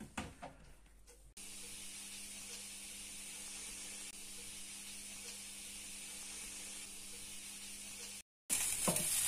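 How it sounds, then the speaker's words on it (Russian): Mushrooms fry in hot oil in a pan, giving a steady, quiet, continuous sizzle and hiss after a brief clatter at the start, with no talking. "нальем там масло, нагреем все это и начнем обжаривать грибы"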